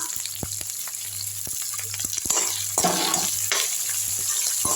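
Onions and green chillies sizzle and crackle in a hot pan, the frying growing louder and denser midway, with occasional clinks of a utensil.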